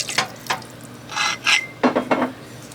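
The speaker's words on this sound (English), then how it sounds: "And then stir it around" A utensil scrapes and clinks around inside a pot of chop suey sauce thickened with cornstarch, in a few short strokes, close and moderately loud, with no talking.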